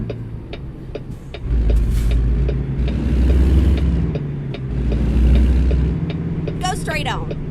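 Mack truck engine driving in American Truck Simulator, a deep low rumble that swells and drops as the throttle changes, heard under frequent talking.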